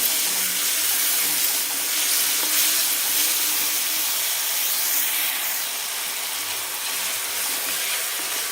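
Tomatoes sauté in a hot pan for brinjal bharit, a loud, continuous sizzling hiss that holds steady close up with no voices.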